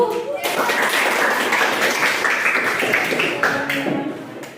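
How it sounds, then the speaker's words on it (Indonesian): A group of pupils in a classroom claps hands together, a dense burst of applause that swells quickly, stays loud, then tapers off. "Sekarang kelompok yang paling aktif beri tepuk tangan ya"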